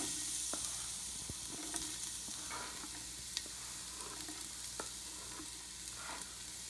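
Freshly cut garlic sizzles in a hot pan for red beans and rice, a continuous crackling hiss with small pops and occasional stirring scrapes, close and alone without talk.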